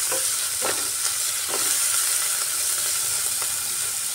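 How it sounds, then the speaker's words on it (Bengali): Shrimp lightly frying in a pan give a steady, close sizzle, with soft stirring scrapes and clicks recurring every second or so; no one speaks. "এবারে চিংড়ি মাছকে হালকা ফ্রাই করে নিতে হবে।"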